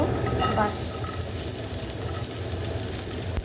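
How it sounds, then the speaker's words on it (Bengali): Butter sizzles as it goes into hot oil left from frying chicken, a steady close hiss and crackle that holds throughout at moderate volume. "চিকেনগুলো তুলে নেওয়ার পরে এবার এই তেলেই দিয়ে দেব বাটার।"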